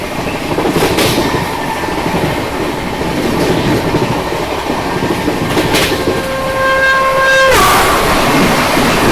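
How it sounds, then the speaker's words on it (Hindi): Jammu Mail express train rushing along at about 130 km/h, a steady loud roar of wheels and rails with rattling carriages, and a sustained horn blast near the end. "130 की रफ्तार में ट्रेन जो है वो चलने वाली इस रूट पे"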